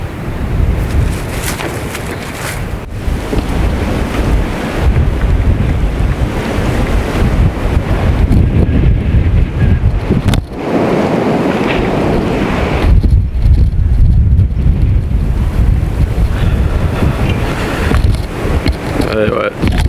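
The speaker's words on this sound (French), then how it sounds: "Beaucoup de vent." Strong wind roars across the microphone outdoors near a marsh, a dense, loud rumble that surges and buffets throughout, with brief dips where gusts ease.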